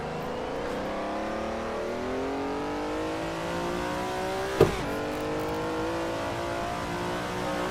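A race car engine at Suzuka in a racing video game holds a steady high whine, rising gradually through the gears, with a sharp brief burst midway and no talk.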